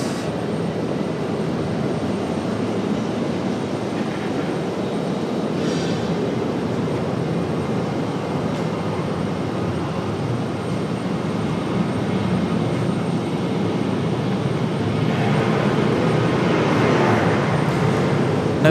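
A Sun Country airliner takes off from runway 23 left at Raleigh-Durham, its jet engines a broad, steady roar heard from a distance that swells slightly toward the end, with no voices.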